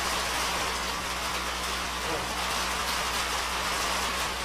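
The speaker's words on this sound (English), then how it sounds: "It just keeps raining." Steady rain hisses close by during work on an Allis-Chalmers D2900 tractor, a dense unbroken wash of patter with a low engine hum underneath.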